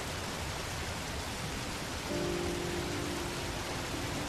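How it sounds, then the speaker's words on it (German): Steady heavy rain pours in the video game Heavy Rain, a dense continuous hiss that holds for the whole stretch, with a faint sustained tone entering partway through and no speech. "Es regnet doch."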